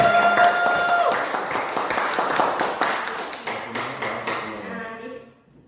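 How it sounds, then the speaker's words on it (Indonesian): An audience claps together in a dense burst of applause that thins out and fades away after about five seconds. "berikan tepuk tangan untuk Pak Saga dan Ibu Melana."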